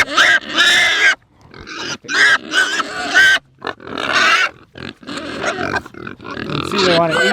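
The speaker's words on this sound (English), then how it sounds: "you see some hungry piggies" Hungry pigs on a homestead grunt and squeal loudly at feeding time in close, repeated bursts separated by short pauses.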